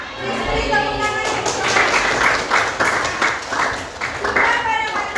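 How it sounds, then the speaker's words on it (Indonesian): A classroom group applauds together in a burst of quick, bright claps lasting several seconds, with voices mixed in, close and fairly loud. "Beri tepuk tangan."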